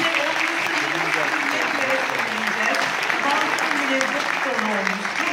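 An audience at an evening commemoration of Mevlana applauding warmly and continuously, a dense wash of clapping with some voices mixed in.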